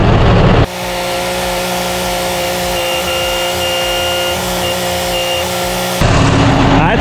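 A skid steer with pallet forks lifts a big poplar stump while facing downhill without rear counterweight. Its engine drones steadily beside a faint hydraulic whine, and the sound cuts in and out sharply at the start and end.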